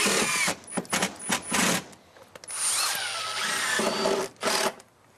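A power drill drives 2-inch screws into a sunroom wall in quick, uneven bursts, with a longer whirring run in the middle, close and fairly loud.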